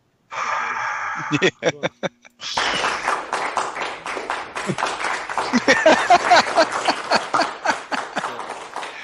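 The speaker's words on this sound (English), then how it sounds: "I actually have my applause hooked up now" Canned applause from a sound effects board: a brief burst of clapping and cheering, a pause, then a longer, louder stretch of crowd applause with scattered whoops that swells toward the end.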